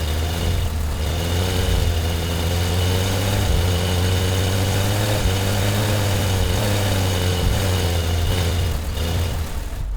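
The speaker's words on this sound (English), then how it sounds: "as I increase or decrease the revs, Igniter will step through the gears." Synthesized car engine from the Krotos Igniter plugin stepping through manual gears, a steady loud engine drone whose pitch rises and dips as revs change and gears shift, with no speech.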